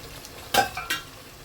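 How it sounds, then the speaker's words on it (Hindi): Masala spice paste for cauliflower kofta curry frying under a low hiss, with two or three quick spatula scrapes against the pan in the middle of the short stretch. "इसको हम ढक ढक के अच्छे से भूनना है हमको, बहुत अच्छे से मसाले को भूनना है।"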